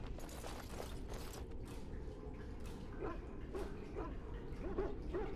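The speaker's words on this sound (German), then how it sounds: "Ja, da hinten Hunde." Dogs in the video game Dragon Age Origins bark and yip at a distance, repeated short barks over a busy mechanical, ratcheting background clatter.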